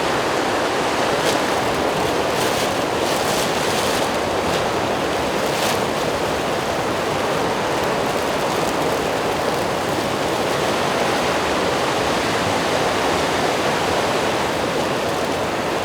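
A river roaring steadily at a crossing point, a dense, loud, unbroken wash of rushing water close by, with no voices over it.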